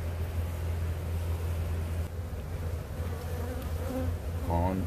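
Honey bees buzz in a steady, low drone over an open hive in spring, close and continuous, with a few individual bees whining louder as they pass near.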